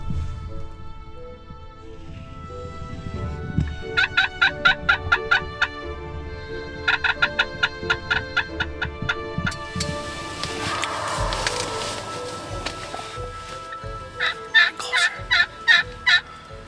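Wild turkeys gobble in the woods in bursts of rapid rattling calls, several rounds spaced apart, with a rustling noisy stretch between them and fairly loud, close gobbles at the end.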